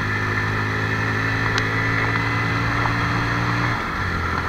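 A Honda CB110 motorcycle engine runs at a steady, even hum, close and fairly loud, with its tone dropping slightly near the end.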